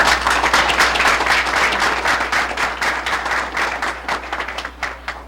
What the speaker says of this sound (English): let's give Lucy another round of applause